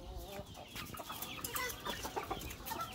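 Chickens cluck and squawk in a busy, overlapping chorus, fairly close, with scattered sharp calls and no talking.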